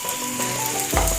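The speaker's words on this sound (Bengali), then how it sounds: "একসাথেই ভাজা করে নিচ্ছি" Onion, tomato and half a capsicum fry together in a pan, a soft continuous sizzle with light ratcheting clicks and a low thump near the end.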